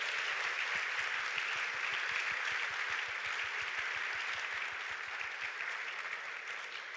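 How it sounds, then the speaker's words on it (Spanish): An audience at the Rapa Nui Pacific Leaders Summit 2024 gives the panelists a sustained, even round of applause, a dense wash of many hands clapping that holds steady and tapers slightly at the end. "Les quiero pedir que demos un fuerte aplauso a nuestros excelentes panelistas el día de hoy."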